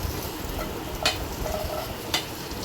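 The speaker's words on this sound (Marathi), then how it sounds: "त्यानंतर एका पॅनमध्ये तेल घालायचं आहे आणि भेंडी आहेत आपल्याला भाजून घ्यायची आहेत" Okra frying in oil in a pan, a soft continuous sizzle with two short sharp stirring scrapes about a second apart, no voices.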